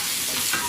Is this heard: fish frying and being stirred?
yes